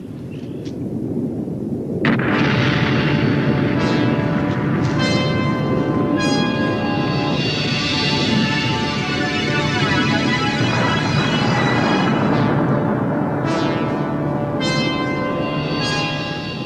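Vesuvius erupting in a documentary sound effect: a loud, continuous roar that swells after a quiet start and holds steady, rumbling and hissing with sharp cracks scattered through it.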